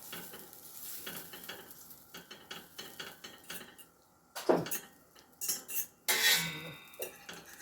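Butter knocked off a fork into a hot pan: a few sharp metallic clinks of cutlery against cookware, then short bursts of sizzling as it melts, close by with no talk.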